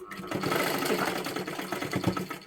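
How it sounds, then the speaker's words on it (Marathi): A sewing machine stitches fabric during a home tailoring session, its motor humming and the needle clattering in a steady, continuous run close by. "शिलाई करत करत घ्यायचं आहे"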